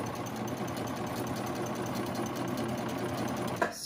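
Baby Lock serger stitching a knit fabric face mask on a differential gather setting, a fast continuous humming chatter that runs steadily, then stops abruptly with a brief clunk at the end.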